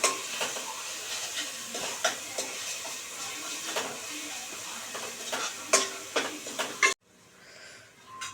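Ginger-garlic paste is stirred into onions frying in a pan, with a steady sizzle and repeated scraping, clinking strokes of the spoon, and the sound then drops to quiet near the end.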